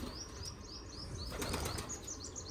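A pigeon's wings flap in a quick flurry nearby, with faint chirps and a noisy background.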